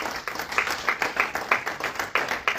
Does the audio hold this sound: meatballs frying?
no